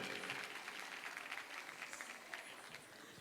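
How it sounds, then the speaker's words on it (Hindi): An audience at a dance and fitness studio's annual day applauds a guest, a brief burst of faint, distant-sounding clapping. "श्री सर के लिए जोरदार तालियां हो जाए."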